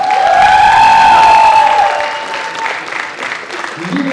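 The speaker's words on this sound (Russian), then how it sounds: "Еще раз громкие аплодисменты." Loud audience applause and cheering in a hall after a student KVN comedy team's performance, with a whistle cutting through at first before the clapping thins and settles.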